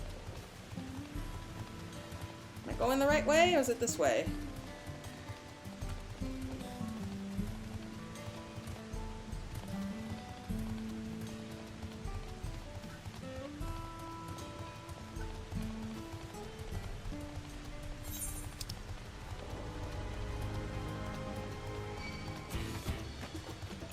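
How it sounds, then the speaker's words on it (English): Steady rain falls across a dark city area in Final Fantasy XIV Dawntrail, a soft continuous patter that runs the whole time beneath background music, with a person briefly talking near the start. "And it's raining."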